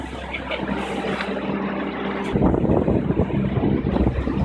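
A sailboat motor sailing on Chesapeake Bay, with a steady low engine drone under wind rush and water noise that grows louder and choppier partway through.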